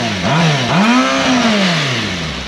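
Kawasaki Ninja ZX6R sport bike on its stock exhaust, revved twice in quick succession: each blip rises sharply in pitch and falls away, the second held longer, loud and close with no talking.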